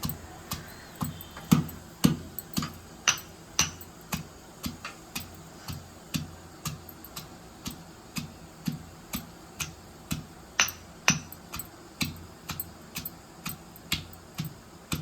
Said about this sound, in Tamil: வெங்காயம் நசுக்கிறோம் பார்த்தீங்களா